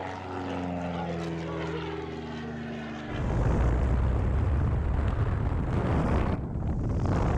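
Blue Angels jets flying an airshow display at Oshkosh AirVenture, a droning engine tone that suddenly swells into a loud, broad roar about halfway through and stays heavy, with wind buffeting the microphone.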